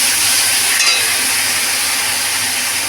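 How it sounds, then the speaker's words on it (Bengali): Prawns frying in hot oil, a dense, loud, continuous sizzle and hiss with a brief stir or clink near the start, no talking over it. "এবার চিংড়ি মাছটা ভেজে নেবো, তেল গরম হয়ে গেছে।"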